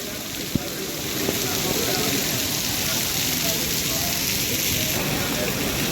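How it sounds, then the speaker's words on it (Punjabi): Monsoon rain pours steadily at Ludhiana railway station, a dense, continuous hiss of heavy rainfall with one brief knock near the start. "ਮੌਨਸੂਨ ਦਾ ਮੀਂਹ ਆ ਤੇ ਮੌਨਸੂਨ ਇਸ ਟਾਈਮ ਪੂਰਾ ਮਿਹਰਬਾਨ ਆ ਪੰਜਾਬ ਦੇ"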